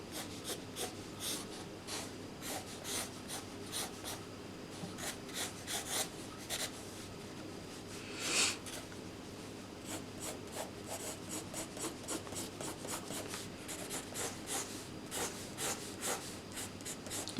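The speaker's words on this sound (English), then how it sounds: "And here I'm drawing more lines here because this is going to be a shadow." Pencil or pen scratching lines on paper, a close, quiet series of short rhythmic strokes repeated steadily throughout, with no talk.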